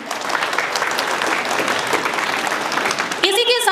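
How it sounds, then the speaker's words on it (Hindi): Steady, dense applause from an audience at a school Republic Day event, a continuous wash of clapping for several seconds, then a voice begins speaking as it ends. "एक बार उनके लिए जोरदार तालियां"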